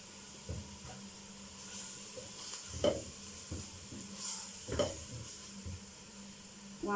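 Shrimp pasta sauce with mustard and lemon sizzles in a pan while a utensil stirs it, producing soft scrapes and occasional clinks over a steady, moderate frying hiss.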